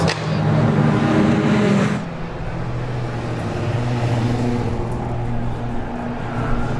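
A race car heading back onto the circuit during an endurance race, a loud engine roar that eases after two seconds into a steadier, lower drone with distant track noise.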